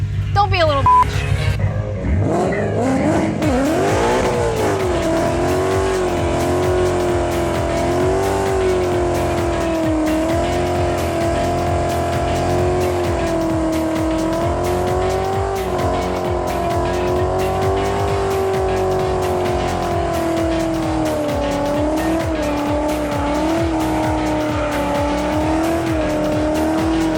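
A car doing a sustained burnout at the Carlisle All Ford Nationals, engine held at high revs with a steady, loud tire squeal over a rumbling engine drone and crowd noise, lasting the whole stretch after a brief opening rev.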